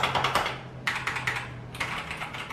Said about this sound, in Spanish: No se oye tanto como un teclado mecánico, que hay gente que le gusta que se escuche más o menos, ese teclado no se escucha tanto